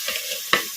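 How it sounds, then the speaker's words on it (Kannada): Chicken fry cooking on low flame in a covered pan, with a soft close sizzle broken by one sharp clatter of stirring or the lid midway, and no talk. "ಲೋ ಫ್ಲೇಮಲ್ಲಿ ಇಟ್ಕೊಂಡು ಒಂದು ಸ್ವಲ್ಪ ಹೊತ್ತು ತಟ್ಟೆ ಮುಚ್ಚಿ ಫ್ರೈ ಮಾಡ್ಕೊಂಬಿಡೋಣ"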